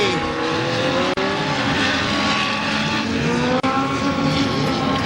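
Several stock cars race and tangle in turn 3 at KilKare Speedway: a steady, loud engine roar with tire squeal and shifting pitch as the field passes, broken by two brief dropouts.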